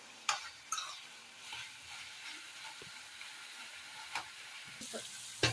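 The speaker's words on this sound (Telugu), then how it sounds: "చూడండి ఫ్రెండ్స్, చికెన్ అనేది ఎలా ఉడికి నూనె పైకి తేలుతుందో." Chicken frying in oil for Guntur gongura chicken gives a soft, steady sizzle, with a few sharp scraping stirs standing out above the low bubbling, fairly quiet overall.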